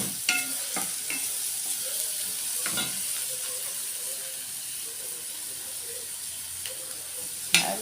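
Spinach and meat frying in a pot, a steady low sizzle broken by several scraping stir strokes and occasional sharp knocks of the spoon, close up with no talking.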